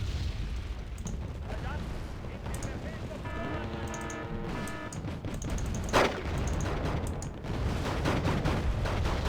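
Artillery in Wargame: Red Dragon: low rumbling booms under a steady battle din, with one sharp louder blast partway through, while someone talks over the action.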